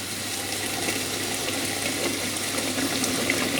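Boiling water poured from a kettle into a pan of batter mix, a steady soft splashing gush at low level, continuous and unbroken for a few seconds with no voices.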